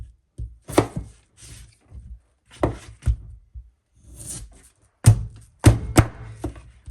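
A dull kitchen knife cuts food on a board while a whole roast chicken is being prepared: close, irregular scraping and thudding strokes in short bursts, with quiet pauses between them.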